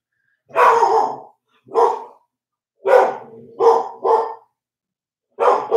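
Dogs barking in loud, close bursts: six sharp barks in an uneven rhythm with short silent gaps between them, no talk.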